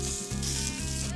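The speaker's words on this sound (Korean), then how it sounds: "지글지글 소리에 그만 침샘이 터집니다" Shashlik meat sizzling on a grill, a steady close crackle with a faint low hum underneath, continuous for the whole moment without any voices.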